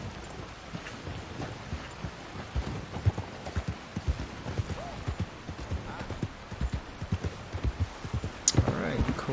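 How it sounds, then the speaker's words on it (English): Horse hooves clip-clop steadily in Red Dead Redemption 2, a rhythmic run of close, fairly loud hoofbeats under game wind and people talking, ending in a louder burst. "The horse is really hard to handle."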